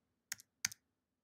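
Two quick, quiet keystrokes on a computer keyboard, crisp clicks close by in an otherwise silent room.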